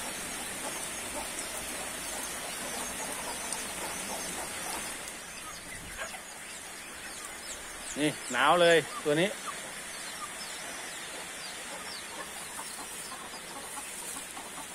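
A mother hen brooding her chicks in wet ground clucks in a brief, loud burst of rising calls partway through, with a person speaking softly over a steady outdoor hiss.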